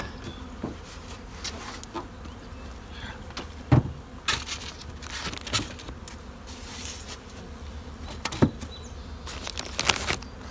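Honeybees buzz steadily inside a two-story hive that is just being opened, with a continuous hum and scattered louder bursts of close wing noise.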